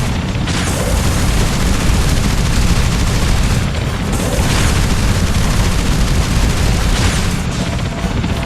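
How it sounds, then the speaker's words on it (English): Heavy, continuous bursts of boss gunfire in Ninja Gaiden 3, loud rapid booming volleys with brief lulls between barrages, filling the whole stretch with no talk. "I gotta wait another 5 freaking barrages of bullets from this thing"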